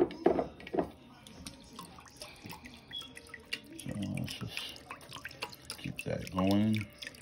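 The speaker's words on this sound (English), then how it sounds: "Then we'll add our shoyu." Shoyu poured into a homemade marinade of water and brown sugar for a Polynesian recipe, giving a short close liquid trickle and drip near the end, with scattered kitchen clatter before it.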